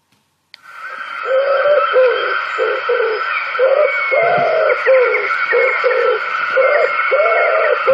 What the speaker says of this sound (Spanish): Aquí tenemos a la paloma Torcaz.